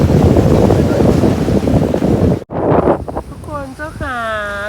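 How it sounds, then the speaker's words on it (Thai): Strong wind buffets the microphone with loud, roaring gusts outdoors, then drops away as a voice speaks with lighter wind behind it. "ลมจะแรง"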